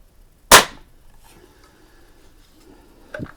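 A Barra 1866 rifle fires a single sharp, loud shot close by, then a brief quiet tail before a faint mechanical clack near the end.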